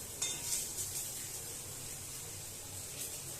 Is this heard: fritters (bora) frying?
yes